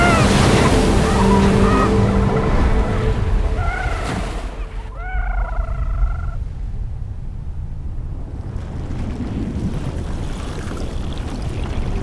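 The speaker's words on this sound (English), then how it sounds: "Imagine waves of up to 30 feet tall" Large ocean waves in the Drake Passage, a steady broadband wash of surf and wind that stays loud throughout, with a few brief tonal calls partway through.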